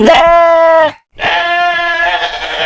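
Sheep bleating loudly and close in two long, wavering calls separated by a brief silence, used as a sound effect in a Hindi horror story set in the Uttarakhand hills.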